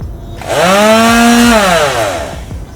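A power sander revs up loudly on a surfboard and holds a high, buzzing whine for about a second before winding down, close and alone.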